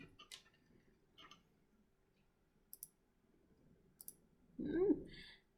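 A computer mouse gives a few sparse, faint clicks in a quiet room, with a brief louder bump near the end.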